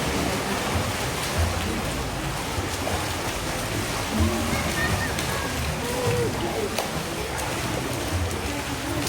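A child swims lengths in a pool during a swimming test, with a continuous wash of splashing and churning water and faint voices in the background.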